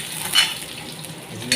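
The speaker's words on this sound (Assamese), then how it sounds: "গোটা জিৰা, পাঁচফোৰণ আৰু পিঁয়াজ দি এতিয়া ভালদৰে ভাজি লৈছে।" Onions frying in a pan with whole cumin and panch phoron for a chicken dry fry, giving a soft, steady sizzle with a light clink or stir near the start and end, no voices.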